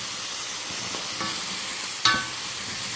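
Fennel and sausage sizzle steadily in a pan while being stirred, a soft continuous frying hiss with a few faint scraping and clinking stir sounds, one sharper utensil knock near the end.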